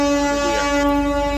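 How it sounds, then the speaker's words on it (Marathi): Train horn blown during a short halt at Dongargaon on a Thane to Jat rail journey, one loud sustained harmonic blast lasting over a second, close and alone. "बघा हॉर्न दिलेला आहे"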